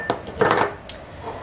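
Glass canning jars clink and knock together on a kitchen counter while being assembled for pickled beets, a few quick close clatters with brief gaps between them.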